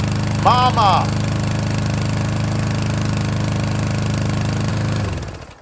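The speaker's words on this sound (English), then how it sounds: "There is Mama mowing the lawn." A small lawn mower engine drones steadily at close range, with a brief voice early on, then sputters and cuts out at the end.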